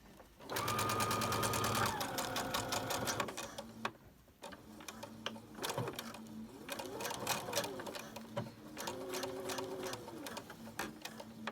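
A sewing machine stitching a surgical face mask with elastic ear loops runs in a fast steady burst, then continues in shorter stop-start runs of rapid mechanical ticking, close and clear throughout.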